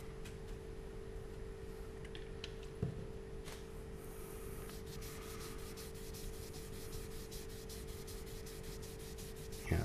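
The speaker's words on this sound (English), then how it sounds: "So we're just cleaning out the sawdust from the actual grain." Quiet, steady rubbing as sawdust is cleaned out of the grain of a zebrawood pen blank, a soft continuous scrubbing over a low hum, with an occasional light tap.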